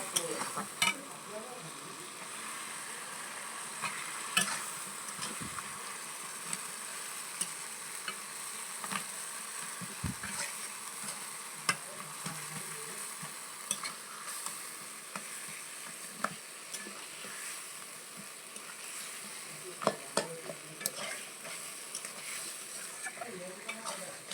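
A fish head fries with spiced masala in a pan, giving a steady close sizzle with scattered clicks and stirring scrapes throughout and no talking.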